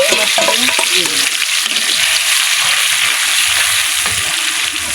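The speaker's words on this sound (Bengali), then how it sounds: "এই তেল গরম হয়েছে, একটু বেটে রাখলাম সরষে মশলা, আবার সঙ্গে দিয়ে দিলাম।" Ground mustard spice paste frying in hot oil, a loud dense crackling sizzle that stays close and continuous throughout, with faint stirring beneath.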